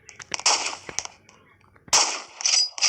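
Video game gunfire: several sharp, close shots in two bursts separated by a short pause, loud and crisp with no talking over them.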